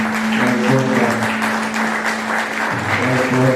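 A church congregation claps steadily and loudly throughout, sustained applause in a reverberant hall with a sustained musical tone underneath.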